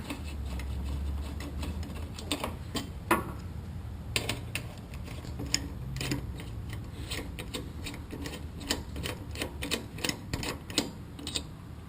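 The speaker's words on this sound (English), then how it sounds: "I got it on a socket. Break those loose and take them out." Ratcheting socket wrench on a number 8 Allen bit breaking loose the rear brake caliper bolts of a Harley motorcycle without ABS, heard as a long run of rapid, sharp metallic clicks and ticks, close and steady.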